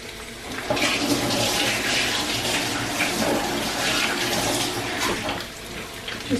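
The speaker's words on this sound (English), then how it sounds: "Washing my hands." A kitchen tap runs steadily while hands are washed under it, a close, continuous rushing splash of water with slight shifts in the flow, no talking.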